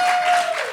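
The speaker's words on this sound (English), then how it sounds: "my notes here say hold for uproarious applause" Audience applause at a San Diego Comic-Con panel for an independent sci-fi anthology series, a short loud burst of clapping with a steady tone running through it.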